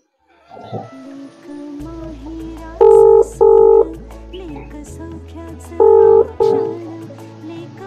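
Telephone dialing tones beep in two short bursts over background music, each burst a quick pair of tones, followed by a ringing-like sound.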